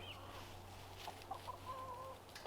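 Faint, soft clucking from chickens nearby, a few brief murmuring calls over a quiet steady hum.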